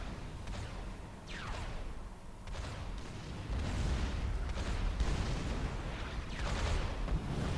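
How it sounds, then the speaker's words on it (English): Artillery fire in the strategy game Forged Alliance Forever, a series of dull booms and whooshing shell sounds repeating every second or two over a rumbling battle background, moderately distant. "These artillery have actually got a decent way in, and but they haven't taken out any of the mexes"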